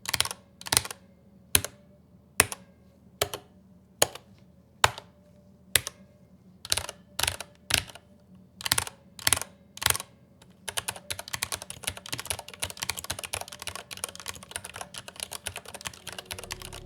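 Ergonomic mechanical keyboard keys clacking in separate presses, then rapid continuous typing, with a faint metallic ping ringing after some keystrokes, especially larger keys; close and clear.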